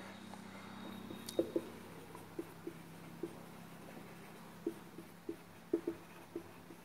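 Writing out important points for a Class 11 CBSE maths lesson on limits, with a pen or marker tapping and scratching in short, irregular strokes over a quiet room hum, close and fairly soft, no talking.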